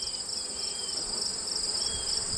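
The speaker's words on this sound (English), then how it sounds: "there's certainly a lot of bees down in there." Dense, steady buzzing of many honeybees massed inside a hive below a bee escape, heard as a continuous high hum without pauses.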